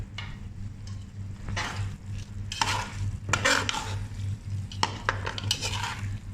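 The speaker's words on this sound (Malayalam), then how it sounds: "നന്നായിട്ടൊന്ന് മിക്സ് ചെയ്ത് കൊടുക്കാം നമ്മുടെ മസാലയിൽ." Fried chicken is stirred into masala in a pan, with irregular scraping and clinking strokes of a utensil against the metal over a soft background sizzle, close up and without talk.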